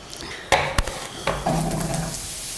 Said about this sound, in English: so I'm going to throw these apples into the pan.